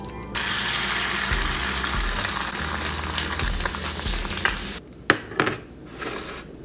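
An egg frying in a pan, a dense continuous sizzle with a low rattling, mechanical undertone, giving way near the end to a few sharp clacks and scraping knocks.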